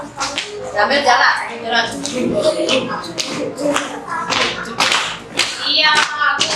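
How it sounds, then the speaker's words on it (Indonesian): Children clapping their hands in a classroom lesson, a run of quick, irregular claps close by, mixed with a voice and other talk throughout. "Iya, tepuk tangan."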